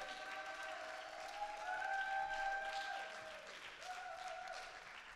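A church congregation claps in a sustained round of applause, building slightly then easing, with held keyboard tones ringing underneath.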